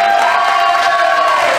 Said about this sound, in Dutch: Ik wil nog een applaus voor zijn vrienden